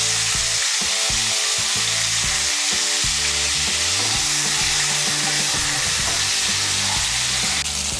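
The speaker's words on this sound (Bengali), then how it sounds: "এর মধ্যে আমি সামান্য একটু নুন আর সামান্য একটু হলুদের গুঁড়ো দিয়ে ফুলকপিগুলোকেও আমি ভেজে নেব।" Loud, dense sizzling of steamed cauliflower frying in hot oil with salt and turmeric in a wok, punctuated by brisk scraping and stirring of a spoon against the pan.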